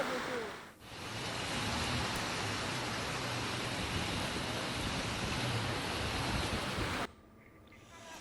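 Heavy monsoon rain pours over the flooded market in Pawas, Ratnagiri district, a loud, steady roaring hiss that continues for about six seconds, then cuts off abruptly to a quieter background.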